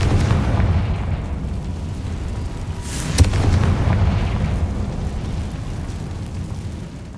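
A Confringo fire spell bursts in the Hogwarts Legacy video game, a deep rumbling boom with a sharp crack at its peak that fades into a long low roar.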